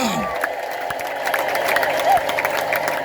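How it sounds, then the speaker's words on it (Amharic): Church congregation ululating and applauding, a dense crowd of claps and high trilling voices filling the room, moderately loud and sustained, with a brief rising voice standing out partway through. "እልልታ ጭብጨባ ለጌታ"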